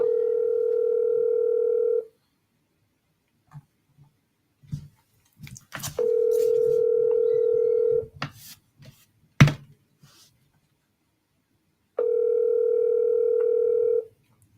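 A telephone dial tone sounds in three steady two-second bursts during a cold call, separated by quiet gaps holding scattered clicks, taps and handling noises.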